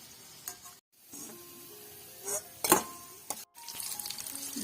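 Palm fruit fritters (taler bora) made with flour fry in hot oil, a soft continuous sizzle with occasional stirring clinks and short bursts, close and fairly quiet with no talk.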